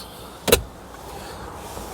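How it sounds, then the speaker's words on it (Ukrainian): A sliding armrest in a 2018 Renault Megane 4 cabin gives one short, sharp mechanical clack as it shifts, close and distinct against a quiet interior hush. "Підлокітничок у нас рухається туди-назад."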